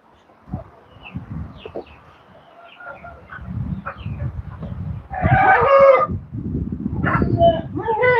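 Nearby chickens waiting for feed on a farm cluck and squawk in bursts, growing louder and busier toward the end, with other farm animal calls mixed in.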